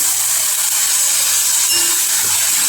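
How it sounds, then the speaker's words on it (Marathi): Water poured into hot cooking garam masala for an egg dish hisses and steams steadily and loudly, a dense sizzle throughout with no talk. "थोडं पाणी टाकलं"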